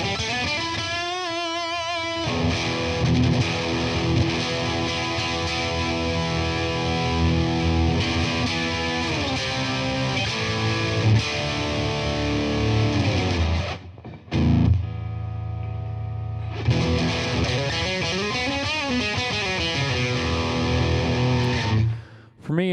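Electric guitar, a Parker PDF35, with heavier distortion, thick and sustained with a bright, buzzy edge, played continuously with a brief dropout partway through.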